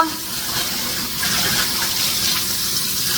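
Fresh clams being rinsed under a running tap before steaming, a steady close splashing rush of water that swells slightly partway through and carries on unbroken.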